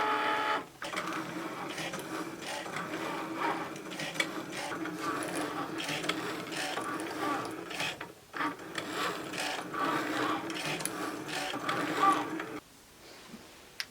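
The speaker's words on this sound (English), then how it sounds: "we're going to actually use the knife blade on both the Cricut genuine leather as well as the leather" Cricut Explorer cutting machine slicing genuine leather with its knife blade, a busy run of whirring motor and clicking, ratcheting carriage moves with brief pauses, fairly close and moderately quiet.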